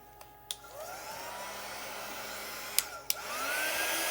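A hair dryer blowing on a chalk-paint craft piece, a steady close whooshing roar that rises in pitch as it spins up, with a few sharp clicks as it is switched and handled.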